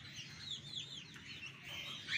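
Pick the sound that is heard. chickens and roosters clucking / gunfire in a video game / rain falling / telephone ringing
chickens and roosters clucking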